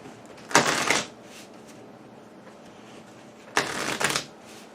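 Two bursts of playing cards riffle-shuffled during a Pandemic Legacy board game session, each lasting about half a second, close and crisp over a quiet room.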